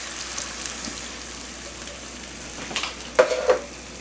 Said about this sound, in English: I'm going to add in 1 can of beef broth